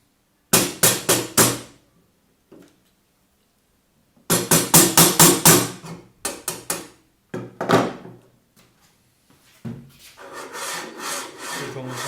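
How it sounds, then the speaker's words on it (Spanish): Light hammer taps on a steel rod of a 3D printer frame come in quick bursts of four or five sharp knocks, separated by pauses, followed by scraping and a softer rubbing noise near the end. "con unos pequeños golpes, ajustamos hasta que quede situada a la perfección"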